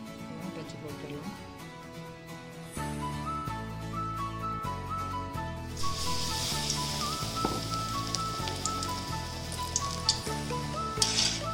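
Raw banana bajji deep-frying in hot oil, a steady sizzle and crackle under background music, growing brighter and denser about halfway through as more battered slices hit the oil.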